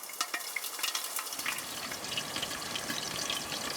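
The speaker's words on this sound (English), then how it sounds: "I got fish fry baking there on the stove." Lake trout fry-baking in a pan on a woodstove during winter camping, giving a steady, close crackling sizzle with a hiss that swells after the first second and runs on continuously.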